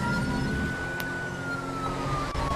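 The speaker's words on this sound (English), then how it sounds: "We're going to be flicking our lights and sirens on as well." A police car siren in GTA V with the LSPDFR mod wails steadily in a slow sweeping tone, layered over constant engine and road noise, with a brief sharp click partway through.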